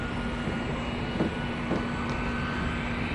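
A steady airplane engine drone fills the whole stretch as an even, continuous roar, with no voices over it.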